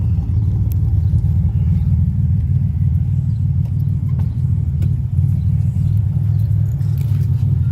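A V6 car engine with a 3-inch exhaust rumbles steadily up close, a low, continuous throaty drone with no speech over it.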